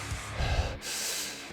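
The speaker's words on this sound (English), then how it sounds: "heavy breathing." Heavy breathing comes up close: a rough snorting inhale followed by a long, loud breathy exhale, brief and alone.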